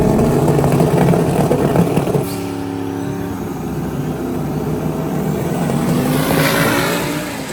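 Nissan drag car at LS Fest 2024 building boost on the trans brake and launching, a loud, close, sustained engine roar with a shift in tone partway through as the car pulls away.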